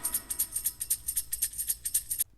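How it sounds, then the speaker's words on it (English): A load of tambourines from a drum break sample, bright jingling shakes in a quick steady rhythm, close and clear, ending abruptly after a couple of seconds. "you also have this extra bit which is just a load of tambourines"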